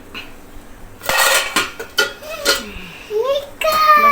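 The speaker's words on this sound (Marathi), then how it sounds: "आता आपण झाकण उघडून बघूया" A metal lid is lifted off a cooking pot of steamed khawas (jaggery and cow colostrum) in a home kitchen, making several close clattering clinks and scrapes with a brief ringing metallic tone between them.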